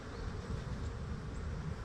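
Bees swarm and buzz steadily in an opened hive colony, a dense continuous drone close by with no talk.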